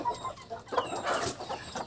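Indonesian kampung chickens cluck and murmur in short, overlapping bursts, fairly close, with a low farmyard hum underneath.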